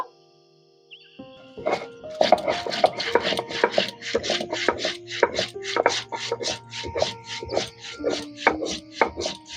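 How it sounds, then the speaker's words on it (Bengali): Coriander seeds ground into a spice paste on a stone, giving repeated rough scraping and rubbing strokes in a steady, close rhythm after a quiet start. "এবার ধনেটা বেটে নেব"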